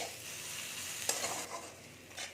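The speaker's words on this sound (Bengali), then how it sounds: "এবার আমি এটা একটু ভেজে নিচ্ছি" Onion and garlic fry in oil in a pan, a soft, steady sizzle broken by a few scraping stirs of a spatula, with no voices.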